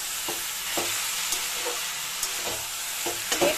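Note shak greens are stirred in a sizzling pan, with a steady frying hiss broken by regular scraping strokes of the spatula about every half second, close and without speech.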